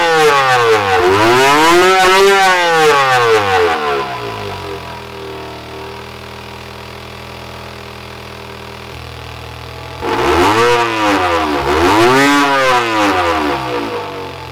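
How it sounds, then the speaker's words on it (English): Simulated car engine from an engine simulator with a long exhaust system, revving loudly in rising and falling sweeps, settling into a steady low idle, then revving hard again. "Here's an engine with a fairly steady idle and a longer exhaust system that you might find in a car."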